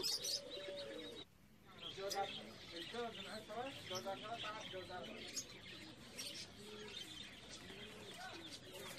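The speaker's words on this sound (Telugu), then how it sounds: "రకరకాల పావురాలు ఉంటాయి" Pigeons coo and chirp at a Friday bird and animal market in Kuwait, repeated soft warbling calls layered over one another with ambient market noise in the background.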